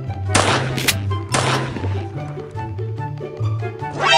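Gunfire from a weapon in the horror video game Granny: Chapter Two, two sharp loud bursts of shots in quick succession over a low droning game soundtrack, followed by quieter in-game tones and a final rising noise.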